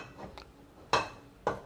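A wok being heated with oil added gives a few quiet metallic clinks and scrapes, three short knocks spaced apart, the last two sharper and louder, no voices.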